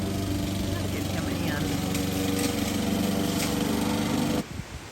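A lawn mower engine drones steadily and fairly close, a buzzing mechanical hum that runs almost the whole time and then suddenly stops near the end.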